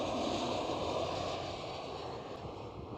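A Transavia Boeing 737-800 in Peter Pan livery at Schiphol gives a steady, distant jet rumble, a low continuous roar at moderate loudness with no clear rise or fall.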